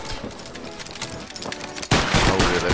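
Musket volley fire in Battle Grounds III erupts as a loud, dense crackle of many shots at once, following a stretch of scattered distant gunfire.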